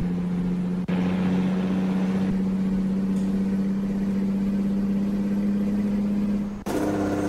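Kenworth T800 double-axle truck engine in American Truck Simulator, heavily loaded and climbing a steep grade, droning loudly and steadily under high revs with a brief dip near the end before picking back up.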